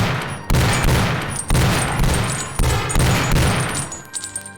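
Rapid gunfire in a VR robot shooting game: loud, dense bursts of shots in several sustained volleys separated by brief gaps, close and harsh, tailing off into quieter scattered pops at the end.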